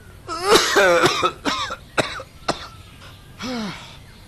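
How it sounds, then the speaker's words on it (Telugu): Several harsh, chesty coughs in quick bursts, then a pause and one more strained cough, close and loud with no talking. "అదిగో మళ్ళీ దగ్గుతున్నావు."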